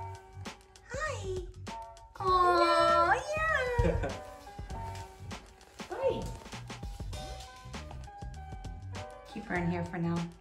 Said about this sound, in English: We're gonna go downstairs and greet the new kitty cat.